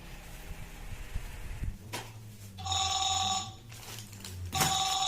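An old telephone rings in a short film about the Indonesian independence proclamation, two bright electric bell bursts over a low hum.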